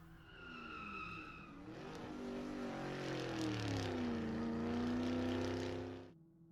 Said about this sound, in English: He took a wide, screeching turn into the parking lot, then spun out of control and slammed into a light pole.